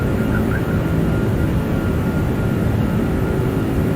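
A simulated Airbus A340-600 jet climbs after takeoff in X-Plane 11, giving a steady, loud, broad engine roar and rumble that holds evenly throughout with no talk.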